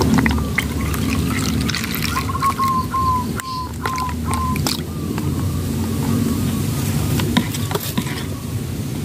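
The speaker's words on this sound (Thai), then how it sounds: "เติมนมจืดลงไปนะคะ1กล่องเลยจ้า" Plain milk poured from a carton into a mixture for a lime tree fertilizer, a steady continuous liquid pour with a faint whistling tone over background noise.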